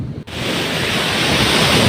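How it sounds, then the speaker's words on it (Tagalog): Surf at Sulok Beach in General Nakar, Quezon, rolls in as a continuous loud roar of shallow low-tide waves, mixed with heavy wind buffeting the microphone. "Akala mo lang nakakatakot yung alon, pero ano siya, mababaw siya."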